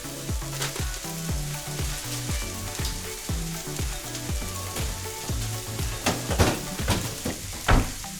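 Onions and mushrooms fry in a pan for spicy gochujang chicken, a steady close sizzle with repeated stirring scrapes and a few sharper utensil knocks toward the end; no one speaks.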